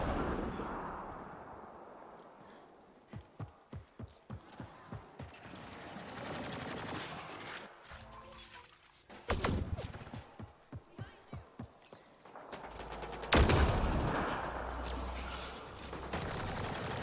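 Minigun fire in Mass Effect: Andromeda, a rapid string of evenly spaced heavy shots followed by louder bursts and blasts amid ongoing combat noise, close and punchy.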